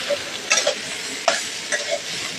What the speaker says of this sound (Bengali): এটাকে ভাজবো, ভাজার পরে বনও খাইবো